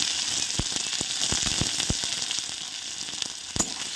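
Chopped onion hits hot oil over a bay-leaf tempering for a soybean and potato curry, producing a constant hissing sizzle with scattered sharp pops and clicks nearby.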